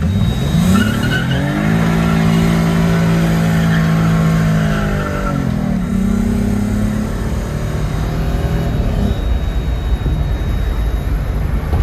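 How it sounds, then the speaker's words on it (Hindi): A car is driven out of a garage, its engine revving loud and close and climbing in pitch, with a brief tire squeal and a rougher rumble as it pulls away; no one speaks. "अब हम गाड़ी बाहर निकालने लगे हैं"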